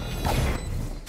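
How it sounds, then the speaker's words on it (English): A gun reloading in a video game, with a short close mechanical clack and rattle of metal parts over about a second. "Reloading. Reloading."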